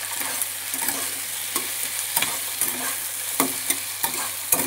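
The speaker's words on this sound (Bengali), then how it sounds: "সেগুলো দিয়ে দিলাম ভাজার জন্য। এবার একটুখানি নেড়ে চেড়ে ভেজে নেব।" Diced tomato and capsicum sizzle in hot oil in a pan while a spatula stirs them, producing steady frying hiss broken by repeated sharp scraping strokes, with no voices.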